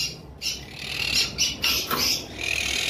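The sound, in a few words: lovebirds chirping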